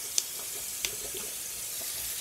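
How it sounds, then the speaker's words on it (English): Cold water runs steadily from a kitchen tap into a sink, a close, even hiss with a couple of small clinks near the start and no talking. "filling up some cold water"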